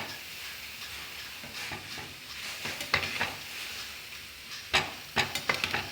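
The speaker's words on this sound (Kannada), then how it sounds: "ಇದು ಗೋಲ್ಡನ್ ಬ್ರೌನ್ ಬರೋವರೆಗೂ ಫ್ರೈ ಮಾಡಬೇಕು." Gulab jamun frying in oil over a medium flame, a steady soft sizzle with occasional louder crackles and bubbling bursts toward the end, close up and with no voices.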